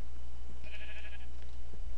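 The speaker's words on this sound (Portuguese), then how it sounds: "Ovelha." A sheep in a Minecraft game gives a single short, wavering bleat over a steady background hum.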